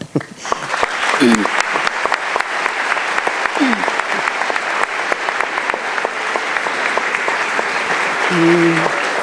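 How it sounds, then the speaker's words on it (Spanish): An audience at a youth forum applauds steadily, dense clapping running continuously for several seconds at a close, even level, with a few brief voices cutting through. "Yo quiero pedir un aplauso para todos."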